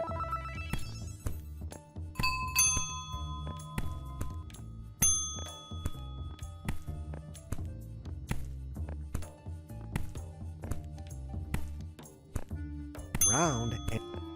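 Bright chiming bell tones ring repeatedly in the point-and-click game Sandra and Woo in the Cursed Adventure, over a looping game melody, with a burst of chimes near the end.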